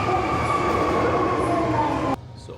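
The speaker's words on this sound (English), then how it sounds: "An express bound for Nara is arriving at" Express train bound for Nara pulling into a station, a loud steady rumble with a high whining tone from the wheels and motors that cuts off abruptly near the end, leaving quieter ambience.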